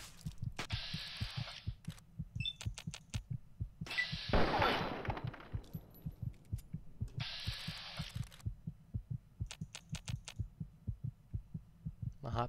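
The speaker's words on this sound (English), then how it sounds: "My heart beating pretty quick now." A heartbeat sound effect in Fallout 3 pounds in a steady, fairly quick rhythm throughout, joined by a burst of noise partway through and other game sounds at intervals.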